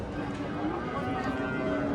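Young Angus cattle, six to seven months old, mooing at the Karakol livestock market in Kyrgyzstan: a long, low, sustained moo fills the moment over busy market murmur.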